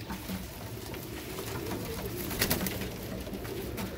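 A pigeon coos steadily at close range for a few seconds, a low, soft rolling call with faint background noise and no talk.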